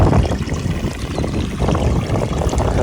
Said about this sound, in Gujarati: બીજું પાણી ધબધબાટી ચાલુ હોય એટલે